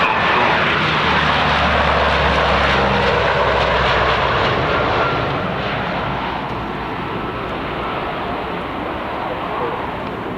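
A Lockheed C-130 Hercules banks through a turn at an airshow, its propeller engines a loud, continuous droning roar that eases slightly as it moves away.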